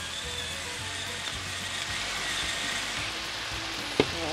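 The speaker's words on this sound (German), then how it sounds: "es kocht und kocht und kocht" Tomato-paste sauce bubbles and sizzles steadily in a pan, a soft continuous frying hiss with faint popping and one brief clink of a utensil near the end, no talking.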